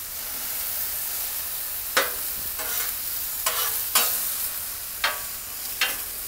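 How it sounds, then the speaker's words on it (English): Chunks of alligator meat sizzle steadily in oil in a pan, with several sharp scraping stirs at irregular intervals cutting through the constant close frying hiss. "Let that cook for a minute, and then I'll go ahead and flip it and stir it up a little better."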